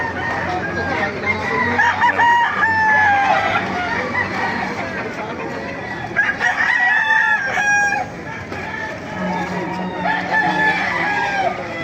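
Several roosters crow over one another amid clucking hens, loud and close, with a busy, noisy market background throughout in Baliuag.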